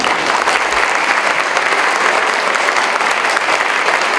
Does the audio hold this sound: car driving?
no